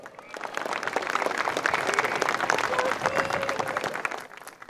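A crowd at an event cheering on Peru's national football team applauds as the President of the Republic is introduced, a dense burst of many hands that swells, holds and fades out near the end.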